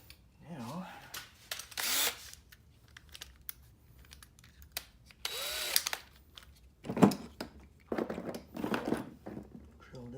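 Power drill driving a screw into a homemade phone cradle for a DJI Spark controller, heard in a few short bursts mixed with handling clatter and crinkling, with a person talking in between.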